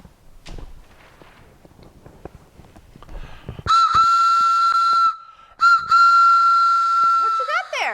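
A steam whistle blows loud and close on a heritage railway in two long, steady shrieks separated by a short gap. Softer footsteps and faint rustling come before it, and the sound falls into a descending wail at the end.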